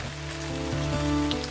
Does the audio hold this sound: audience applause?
no